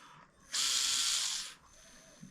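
Servo on an SCX24 Power Wagon 1/24 RC crawler running at 8.4 volts, giving one smooth, loud electric whir of about a second between quiet pauses.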